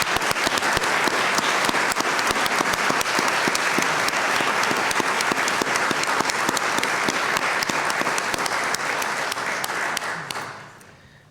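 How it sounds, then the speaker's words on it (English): A sustained round of applause from the crowd at an annual community meeting, loud and even for about ten seconds before quickly tapering off at the end. "Please join me in a heartfelt round of applause to thank Amy, Fred, Sherry, and Maury for th"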